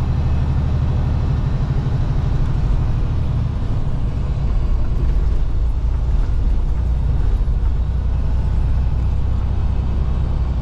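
Traffic on the George Washington Bridge in New York City heard from inside a truck cab, a loud steady low engine and road rumble with passing vehicle noise and a brief hiss, constant throughout.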